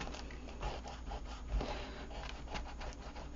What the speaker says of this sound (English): I'm just going to rub out the line that I did there.